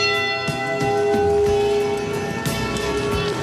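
A memorial church bell tolls for the lost crew of the Edmund Fitzgerald, a loud sustained ring with a long humming decay and no voices over it.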